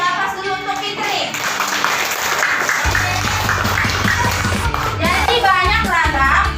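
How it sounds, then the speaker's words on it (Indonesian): Children clapping for a classmate in a primary school classroom, a dense burst of applause building under background chatter and a teacher's voice. "Kasih aplaus dulu untuk Fitri."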